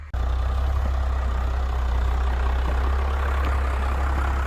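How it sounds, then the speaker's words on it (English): A first-generation Cummins diesel truck idles steadily nearby, its low, even exhaust rumble continuing without change and no voices over it. "Listen to how quiet that exhaust is."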